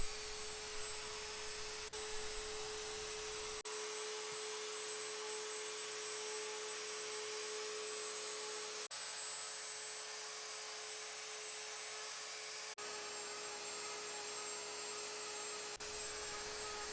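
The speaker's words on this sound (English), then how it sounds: "Here I'm using a 1/8 inch router bit, and I'm using it to take out more material." A router fitted with a 1/8 inch bit carves detail into wood, a steady high whine running continuously throughout at close range, with its tone dipping slightly as the cut shifts.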